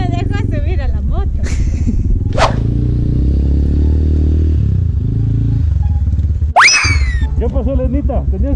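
A motorcycle engine runs close by with a low, steady rumble that shifts in pitch as the bike pulls away, while people talk over it throughout.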